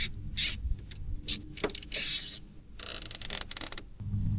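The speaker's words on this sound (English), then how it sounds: "I figure with these giant zip ties, you should have no problem holding this fairly small spring" Giant zip ties being ratcheted tight around a small coil spring on a strut from a 30-year-old Nissan 200SX SE-R, in short close bursts of zipping clicks separated by pauses.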